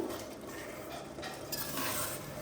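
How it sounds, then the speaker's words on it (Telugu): Yogurt is stirred into aloo matar pulao in a pressure cooker pot, giving a continuous wet scraping and squelching under a light sizzle, close up with no voices. "పెరుగు వేసాక ఇలా మిక్స్ చేయండి"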